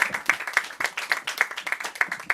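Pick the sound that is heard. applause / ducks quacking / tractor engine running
applause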